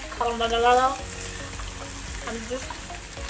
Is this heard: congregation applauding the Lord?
no